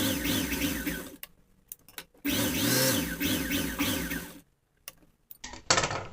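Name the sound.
sewing machine stitching a blouse seam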